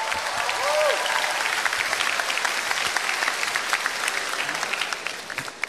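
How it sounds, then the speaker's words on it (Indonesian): A comedy show audience applauds steadily, clapping densely for several seconds before tapering off near the end. "Tepuk tangan buat Koide."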